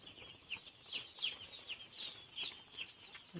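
Broiler chicks on a poultry farm in Assam, about 3,240 birds in one shed, chirp in a dense, continuous chorus of high, thin peeps with many overlapping calls at moderate loudness.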